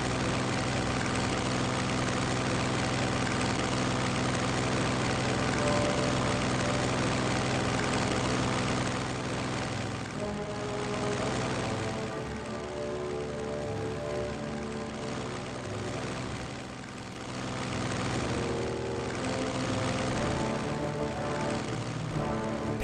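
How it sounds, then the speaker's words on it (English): Propeller-driven tactical bombers fly in a strategy video game, their engines a steady loud droning hum that swells and dips slightly over about twenty seconds, with no voices. "Tactical bombers are flying artillery and a great tool for wreaking havoc on any enemy troops"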